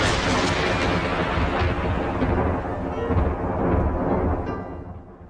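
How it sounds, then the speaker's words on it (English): A deep thunder sound effect rolls loud and continuous for several seconds, a broad rumble that slowly fades toward the end with no voices. "He brought the thunder today."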